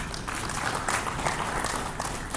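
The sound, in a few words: applause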